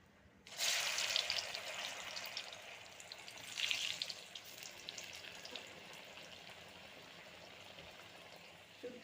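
Dhoka lentil cakes frying in hot oil in a kadai, a steady close sizzle that swells after a sharp start and keeps up with small crackling bursts throughout.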